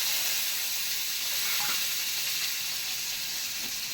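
Small shallots are tempered in hot oil with fenugreek for a village-style sambar, giving a loud, steady, close hiss of sizzling that holds evenly without pause.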